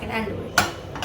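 Mug cake batter with sugar being stirred briskly in a mug, a short run of scraping and clinking with one sharper knock of the spoon against the mug, close and fairly quiet, with no talking.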